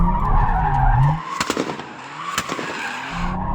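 A Toyota Supra Mk4 TRD slides sideways, its tires squealing and skidding with sharp exhaust pops and bangs cutting through the engine roar, close and loud.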